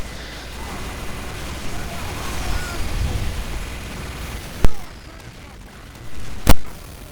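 Two sharp, booming critical rocket blasts from a Soldier in Team Fortress 2 on the cp_egypt map, spaced a couple of seconds apart and standing out above a steady bed of gunfire and match noise.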